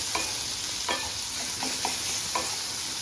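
A sweet-spicy filling stirred and mashed in a pan, with steady frying hiss underneath a few spaced spatula scrapes and taps against the pan, close and moderately loud.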